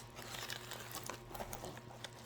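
Plastic bag holding yarn being cut open with scissors, giving soft crinkling and rustling with small snips, close and fairly quiet throughout, no talking.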